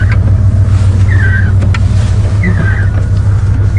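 Engine of a Cadillac hearse droning steadily while driving, a loud low rumble that holds constant throughout with faint road and cabin noise over it.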